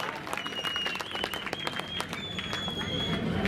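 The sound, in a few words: crowd clapping at a political rally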